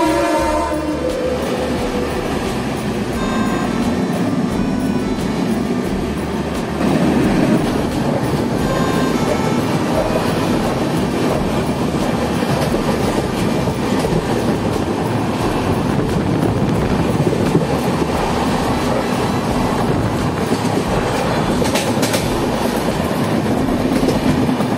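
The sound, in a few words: Raxaul–Howrah Express train 13044 passing at station crossing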